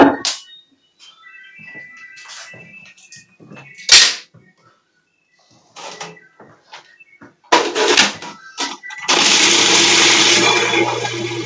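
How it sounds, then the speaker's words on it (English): A blender purees a paste of ingredients loosened with yuzu juice, a steady loud whirring that starts near the end after scattered kitchen clatter, knocks and a sharp crack. "So what I've done is I pureed all of that good stuff into kind of like a paste."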